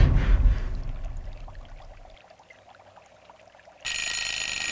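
A kitchen-style timer alarm goes off, a bright, loud ringing that bursts in abruptly near the end after a stretch of quiet rustling and fading background sound.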